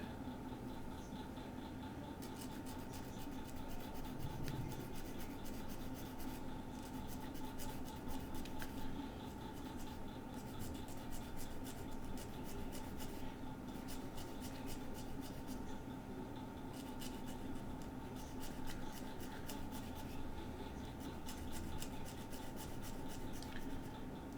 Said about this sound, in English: Trying real hard to support the part while I'm filing.